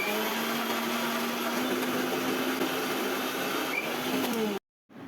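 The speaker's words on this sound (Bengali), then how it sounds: "এবার আমরা ব্লেন্ড করে ফেলবো।" Boiled egg, vinegar, lemon juice and oil blending into mayonnaise: a loud, steady electric blender whir with a slight rising pitch runs continuously, then cuts off abruptly near the end.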